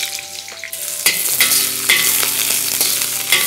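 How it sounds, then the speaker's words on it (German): Pak choi hits hot oil in a wok with a loud burst of sizzling that settles into a strong, steady close-up fry, marked by a few sharp tossing or stirring clatters. "Und jetzt braten wir erstmal Pak Choi an."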